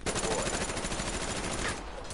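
Rapid automatic gunfire in a multiplayer video game, a dense stream of shots firing continuously before easing off near the end.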